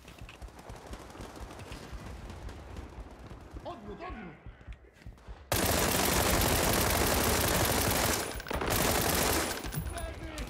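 In the video game World War 3, quieter ambient game sound gives way to a loud, sustained burst of rapid machine gun fire that runs for several seconds, briefly breaks, then resumes.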